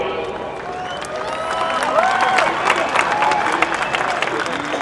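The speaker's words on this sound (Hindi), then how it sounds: "आपकी तालियों की आवाज" A big crowd at a political rally in Solapur claps and cheers loudly and continuously, with many voices mixed into the applause.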